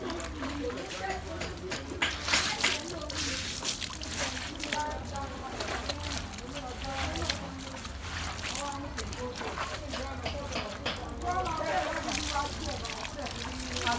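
Cloth being dipped into starch water for adire tie-and-dye crack patterning, with soft sloshing, splashing and trickling throughout while a person talks.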